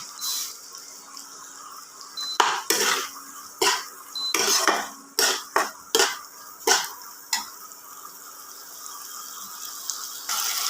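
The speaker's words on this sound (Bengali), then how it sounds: "1 থেকে 2 মিনিটের মতো ভালোভাবে নেড়ে চেড়ে ভেজে নেব, যাতে টমেটোগুলো গলে যায়।" Onions and tomatoes are stir-fried in a pan, with a spatula knocking and scraping in a quick irregular run of close, loud strikes over a low frying hiss, no talking.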